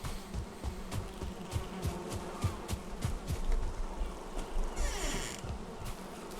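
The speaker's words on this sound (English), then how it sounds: "Oh, and my bees." Buzzing of bees in the video game Valheim, rising and falling over a steady background, with a brief brighter burst near the end; no voices.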